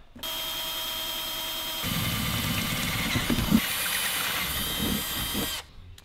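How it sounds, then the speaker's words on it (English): A power drill runs continuously for several seconds, its whine shifting pitch as it bites in and grinds through material before stopping. "going to drill the holes real quick"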